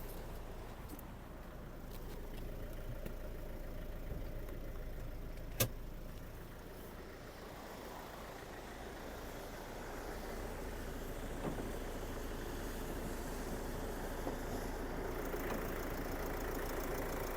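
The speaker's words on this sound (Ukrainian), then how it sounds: "подивимось, як працює двигун" The 2.2-litre diesel engine of a 2007 Mercedes-Benz Vito van idles steadily at close range, a low continuous rumble with one brief click partway through.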